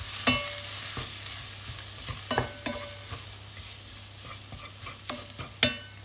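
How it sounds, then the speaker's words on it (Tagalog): Curry powder and vegetables for a vegetarian curry stirred in a sizzling pan, a steady fry hiss broken by several sharp scrapes and clinks of a utensil against the pan, close and alone with no talk. "Siyempre, lagyan natin ng curry powder guys. Ibisa natin. Hanggang sa mabango siya guys."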